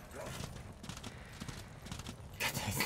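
Horse hooves clip-clopping in the game Darksiders 2, a quick rhythmic trot of hoofbeats running throughout, with talking voices over it and a louder burst near the end.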